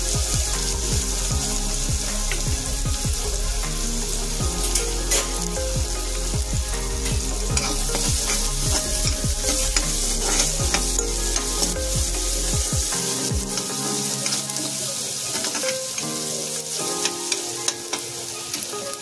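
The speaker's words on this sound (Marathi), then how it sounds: "कांदा चांगला तेलामध्ये फ्राय करून घ्यायचा।" Onion fries in hot oil, a loud, dense sizzle running throughout with scraping stirs and occasional clinks, no one talking.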